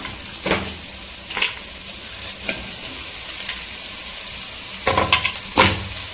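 Green chillies sizzling in hot oil with onions and ginger-garlic paste, a steady close crackle with several sharp spatters and bursts of stirring scraping in the pan, no voices.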